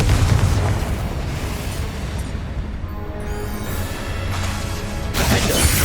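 Confringo blasting spell from Hogwarts Legacy erupting in a loud, sustained booming burst, with a dense roar that dips slightly midway and swells again at the end.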